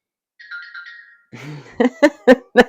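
A phone in a home plays a short melodic ringtone, clear and alone, followed by rustling and a few short bursts of laughter.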